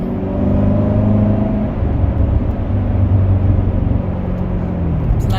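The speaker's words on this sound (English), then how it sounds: "Exhaust note sounds good. Doesn't crackle and pop like the ZR1, but it sounds good." A Corvette C7 Z06 V8 rumbles steadily and loudly throughout, a deep droning exhaust note with a slight rise and fall in pitch, no crackles or pops, no voices heard.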